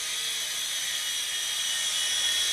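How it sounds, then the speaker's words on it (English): Hubsan H205B civil toy helicopter flying, giving a steady high-pitched electric rotor whine that holds constant throughout, fairly loud and close with no talking. "But it is a really nice flying helicopter"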